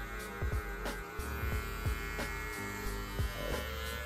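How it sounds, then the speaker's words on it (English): Electric hair clipper buzzing steadily during a burst high-taper haircut, a close, continuous motor hum with small rhythmic changes in pitch as the clipper is tilted and worked through the hair. "you're gonna have to tilt your clipper"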